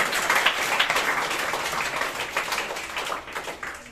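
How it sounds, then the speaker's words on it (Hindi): Audience at a school quiz competition claps for a contestant, a dense, even patter of many hands at moderate loudness filling the whole stretch without speech. "आप लोग अवंतिका शुक्ला के लिए जो तालियां हैं।"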